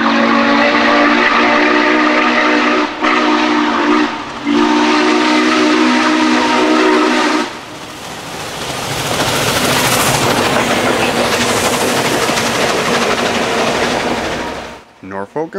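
Norfolk & Western 611 steam locomotive sounds a loud, sustained whistle in long blasts, then its running hiss and chuff carry on strongly as it heads north on the Southern Main Line, fading at the end.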